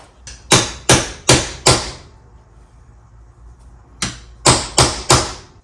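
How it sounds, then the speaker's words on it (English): Hammer blows driving a chisel punch on a Chevy van, four sharp metallic strikes in quick succession, a pause of about two seconds, then five more evenly spaced whacks, close and loud. "And then you hit it with a chisel, and it never comes off."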